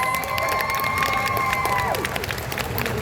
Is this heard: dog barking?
no